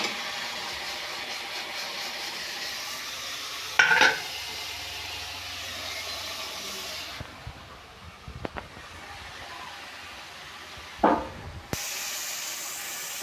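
Potatoes frying with spices in hot oil give a steady broadband sizzle, broken by two brief scraping stirs and a short dip in the middle; no one speaks.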